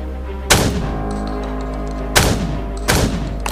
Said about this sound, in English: it's fun as well to shoot them, to explode their head with the shotgun